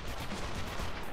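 A video game explosion from The Matrix: Path of Neo on PS2, a loud, dense burst of booming noise that fills the whole moment without letting up.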